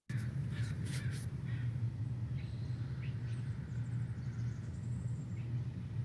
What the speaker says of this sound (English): There's that same crow that I had selected in the previous.